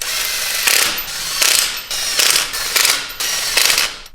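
Impact wrench snugging the nuts on front wheel spacers of a 2019 Ram Rebel, five or six short loud rattling bursts in quick succession with brief pauses between.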